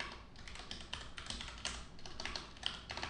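Fast typing on a computer keyboard, a dense run of close, light clacking keystrokes with irregular rhythm and no pauses.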